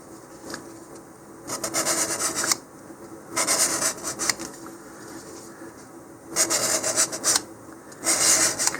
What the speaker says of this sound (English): I'm just going to roughen up where the fins will get glued on.